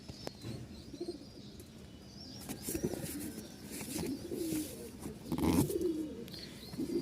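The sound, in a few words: pigeons cooing, Lakka and Lahori breeds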